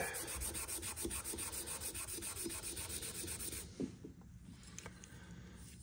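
A Scotch-Brite abrasive pad rubbing across wood on an old carpenter's chest gives a steady, close scratchy scrubbing in quick repeated strokes for most of the time, then drops to a quieter hush near the end.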